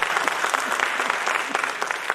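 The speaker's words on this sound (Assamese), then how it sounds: "তেখেতৰ কাৰণে এটা হাত চাপৰি।" A theatre audience at an Assamese drama performance claps for the light designer, a dense, steady round of applause from a crowd close by, continuing throughout.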